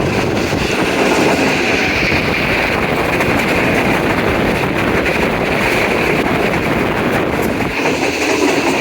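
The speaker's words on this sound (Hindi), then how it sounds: "बहुत ज़बरदस्त स्पीड पे गाड़ी जा रही है" Shalimar Express passenger train running at high speed, a loud continuous rumble and rattle of carriages with wind buffeting the microphone, no talk.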